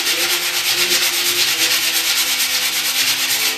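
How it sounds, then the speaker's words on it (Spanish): Wood is hand sanded with sandpaper in steady, fast back-and-forth strokes, a loud, close, continuous scratchy rasp with no voices. "estáis todo el rato lijando con el mismo brazo"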